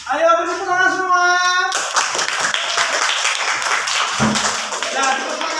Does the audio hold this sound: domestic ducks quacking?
no